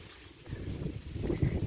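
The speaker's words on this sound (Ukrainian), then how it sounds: "а вже який вітер зривається" Gusty wind roars and buffets outdoors in a garden, rising in strength, with low rumbling bursts against the microphone.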